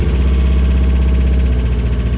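An abandoned Mazda Miata engine idles steadily up close, a continuous low, even rumble with a faint mechanical ticking and no voices.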